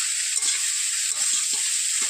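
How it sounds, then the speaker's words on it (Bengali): Bitter gourd and potato fry in a pan with a loud, steady hiss of hot oil, broken by a few soft stirring scrapes, and no voices. "এবার উচ্ছে আলুকে ভালো করে ভেজে নিতে হবে।"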